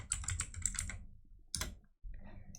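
Rapid clicking keystrokes on a computer keyboard, a close burst of quick taps, a short pause, then another brief flurry of typing.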